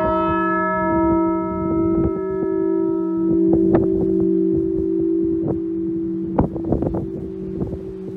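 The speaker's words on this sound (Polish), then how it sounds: "przeanalizujemy każdy dźwięk z osobna, dzwon najmniejszy." The smallest bell of the cathedral in Gliwice, Poland rings with long, sustained humming tones, partly masked by strong wind buffeting and knocks against the microphone.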